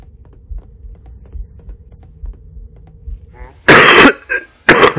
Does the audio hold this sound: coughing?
yes